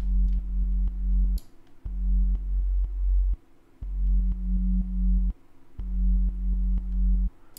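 Low synthesizer sine tones, a deep sub sine layered with a second pure sine about two octaves higher, playing in repeated sustained blocks separated by short gaps.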